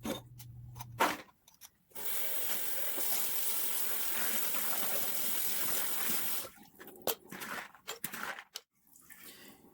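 Room-temperature water pours steadily into jars of dry beans for several seconds, splashing close by. Brief knocks and handling noises come before and after.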